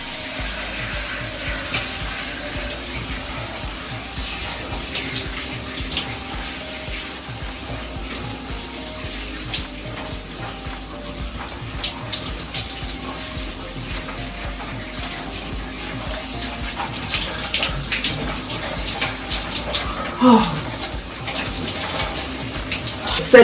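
Shower water runs steadily during a post-workout rinse, a loud continuous hiss and splash that stays close and unbroken throughout.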